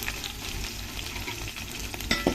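Fenugreek seeds, garlic and onion fry in a pan with a steady sizzle and some stirring scrapes, close and unaccompanied by speech.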